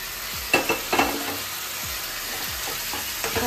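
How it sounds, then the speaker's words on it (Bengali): Pointed gourd (potol) crackling in hot oil in a pan with cashews, a steady sizzle broken by a few sharp scrapes and clacks of a spatula stirring, close and fairly loud. "পটলটা দিয়ে ভালো করে কষিয়ে নেব।"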